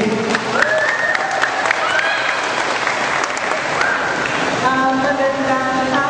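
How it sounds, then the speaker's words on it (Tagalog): An opening-day audience applauds for the HRD manager with thick, steady clapping that stays loud throughout, while scattered voices and cheers sound within the crowd. "Palakpak po namin siya."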